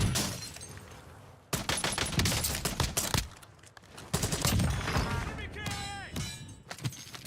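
Rapid bursts of gunfire from an extraction shooter video game, loud and close, coming in several volleys with pauses between them, while a player talks over the shots.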